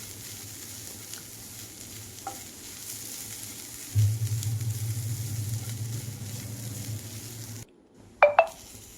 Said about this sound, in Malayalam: ഇത് ചൂടായി വരുമ്പോൾ തേങ്ങയും വെളുത്തുള്ളി ചുവന്നുള്ളിയൊക്കെ ഒന്ന് നന്നായിട്ടൊന്ന് വറുത്തെടുക്കാം